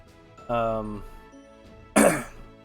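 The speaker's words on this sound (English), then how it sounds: "that's why I'm going to clear my throat and cough every once in a while" A throat clear followed by a single loud, harsh cough, with a quieter voiced sound before it; no words are spoken.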